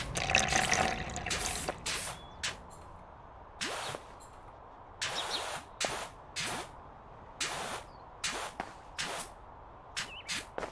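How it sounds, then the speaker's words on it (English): A pressure washer in Powerwash Simulator sprays metal cleaner in a series of short, hissing bursts broken by brief pauses, fairly close and crisp, with a watery rush at the start. "For the trim, I'm gonna hit it with a metal cleaner."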